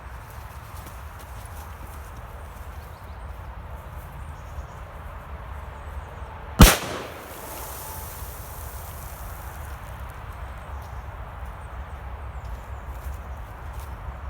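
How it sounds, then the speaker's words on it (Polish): A Funke Trueno No 3 firecracker explodes in sand with a single sharp, loud bang halfway through, followed by a brief rush of scattered debris against a steady outdoor background. "Teraz petardka Funke Truenoną 3 w piasku."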